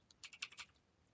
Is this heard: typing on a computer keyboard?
yes